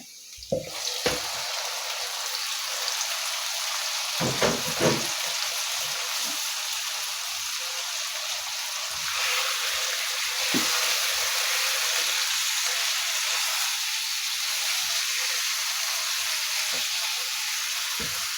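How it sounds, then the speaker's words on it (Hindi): Bone-in mutton leg meat frying in a pan, a continuous close sizzling hiss with a few stirring knocks and clatters, swelling slightly in intensity partway through, with no voices. "इसको अच्छी तरह से भून लेंगे"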